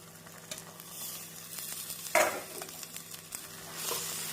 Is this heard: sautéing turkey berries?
yes